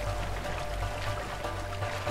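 A waterfall rushes in A Way Out as a dense, steady roar of water that holds loud and unbroken throughout.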